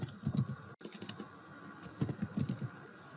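Code being typed on a computer keyboard for a ReactJS pagination component: soft, rapid clusters of key clicks with brief pauses between bursts, close and quiet.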